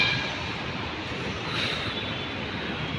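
A steady, broad rumble of a metro train passing nearby, continuous and fairly loud for a few seconds with no voices.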